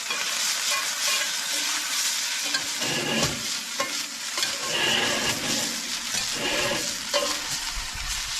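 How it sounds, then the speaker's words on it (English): Pulled bologna frying in olive oil in a cast iron skillet: a continuous loud sizzle and crackle with scraping stirs and spatula knocks, close up and without talk. "we're just going to fry it in this cast iron skillet"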